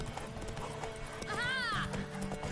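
A horse in The Witcher 3 gives a sharp, rising-and-falling whinny over a steady clatter of hooves, fairly close, with game voices and ambience around it.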